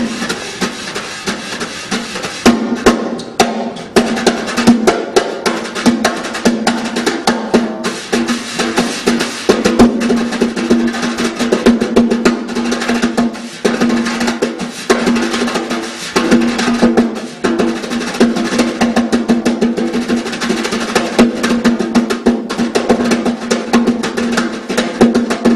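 Wire brushes swished and tapped on a drum to mimic tap dancing, a dense, steady stream of shuffling strokes and crisp taps that carries on at a lively, even pace throughout with no talking.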